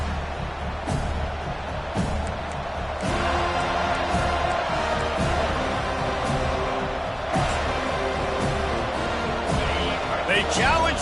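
A football stadium crowd at an FSU versus FIU game cheers and roars continuously, a dense wall of voices with scattered whoops and claps and an announcer talking over it.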